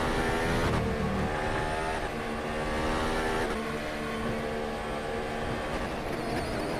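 Racing cars in a mobile racing game roar continuously and loudly, engine pitch shifting as several cars are passed through a chicane, with a short burst of engine change at a few moments.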